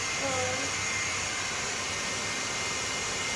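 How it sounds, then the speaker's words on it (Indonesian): Steady broadband hiss of a hot air gun melting DTF transfer powder on a printed film, a continuous blowing roar like a hair dryer, close and even throughout with a brief voice at the start. "nah baru dilumerkan pakai hot gun"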